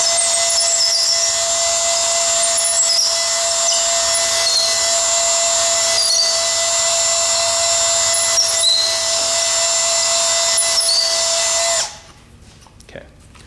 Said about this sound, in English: ream a little bit here because I found that these holes do get tight